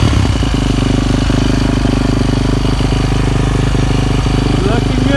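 A Yamaha YZ450F dirt bike runs after being kick-started in snow, its single-cylinder engine idling loud and close in a steady, rapid putter throughout.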